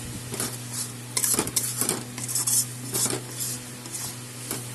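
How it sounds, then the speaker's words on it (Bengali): Ground coriander, chili, Kashmiri chili and turmeric powders sautéed together in a pan, a spoon scraping and knocking against the metal in steady strokes over a faint sizzle and a constant low hum. "সব এখন আমি একসাথে কষাবো"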